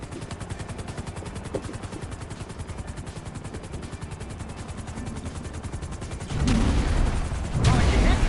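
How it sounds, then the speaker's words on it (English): Rapid gunfire in a video game, with a dense, steady rattle of shots and a deeper engine-like drone, then louder heavy bursts near the end. "I'm picking up incoming aircraft."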